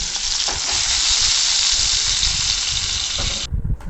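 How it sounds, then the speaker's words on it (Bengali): Sliced potatoes fry lightly in oil for a chicken pulao, a loud, steady, close sizzle that runs unbroken for over three seconds and then cuts off, with no voices. "আলুগুলো আমি হালকা হালকা ফ্রাই করে নেব।"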